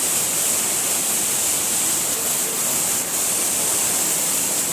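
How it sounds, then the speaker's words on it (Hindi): Flood water roars down a small waterfall at Pradhanpat in Deogarh, Odisha: a loud, unbroken rushing wash with no let-up and no voices. "मतलब पानीटा ये हूँ मिनी झरणा"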